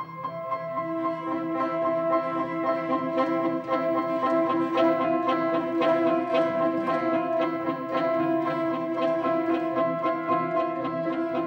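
Ensemble performance of a minimalist piece, a dense, steady web of repeated melodic patterns over sustained tones, playing continuously at an even level without voices.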